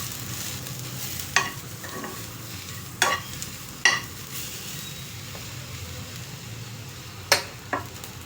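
Ingredients being dry-roasted in a pan over a lowered stove give a quiet, steady sizzle with a few sharp scrapes and clacks as a utensil stirs them, close and without talk.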